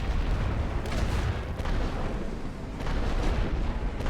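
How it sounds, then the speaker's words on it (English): Cannon fire in the World War I video game The Great War: Western Front rumbles as a dense, continuous booming barrage with repeated heavy thuds, loud and without talking. "They're firing at me with the cannon right now."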